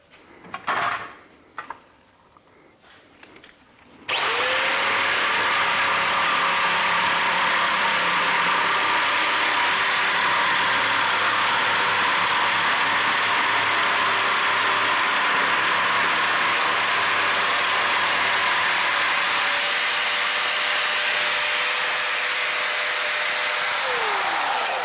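Parkside PMK 550 nibbler cutting through sheet metal: after a few quiet knocks, a loud steady mechanical buzz starts abruptly and runs continuously for about twenty seconds, close up, then a falling tone near the end.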